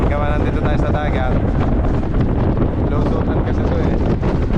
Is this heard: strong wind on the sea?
yes